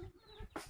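A chicken sheltering under cover gives a single short, faint cluck, heard close by with no other sound around it.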